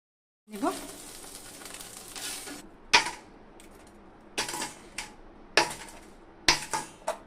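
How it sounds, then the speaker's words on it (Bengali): Crisp fried sago (sabudana) pakoras being handled in a kitchen, giving a series of sharp crunchy clicks and taps at an irregular rhythm, close and fairly loud over a soft sizzling background. "আওয়াজ শুনেই বুঝতে পারছেন কতটা মুসমুসে হয়েছে আজকে সাবুর পকোড়া"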